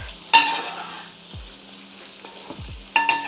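Stuffed eggplants gently turned in a frying pan, a steady soft sizzle with a few sharp scraping clinks of a spatula against the pan, close and alone.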